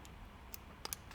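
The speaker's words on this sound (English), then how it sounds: "I always turn the keyboard off with the on-off switch right here" A wireless Lenovo ThinkPad keyboard's on-off switch gives a few faint, sharp plastic clicks in quick succession against a quiet room background.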